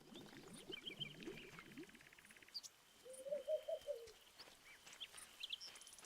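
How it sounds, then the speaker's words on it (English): Video game birdsong in a spring setting: a soft dove-like cooing run in the middle, scattered high chirps and tweets around it, gentle ambience underneath, no speech. "These bird noises are gonna put me to sleep."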